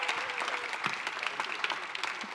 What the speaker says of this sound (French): On peut l'applaudir, Bernard.